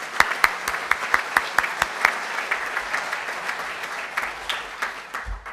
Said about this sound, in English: Let's give them all a rousing round of applause.